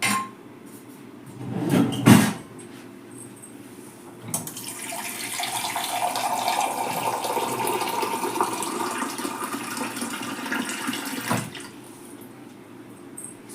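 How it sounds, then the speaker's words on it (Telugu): Water runs from a tap in a steady stream for several seconds, added to a goat head curry mixture, preceded by a couple of clanks and knocks, close and fairly loud, with no voices. "ఇలా మిక్స్ అయిన తర్వాత కొద్దిగా వాటర్ యాడ్ చేసేసుకోవాలి"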